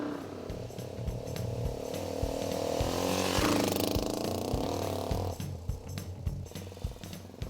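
A Mash motorcycle engine running steadily while being ridden, with a continuous buzzing drone and some irregular popping bursts throughout, loud and close.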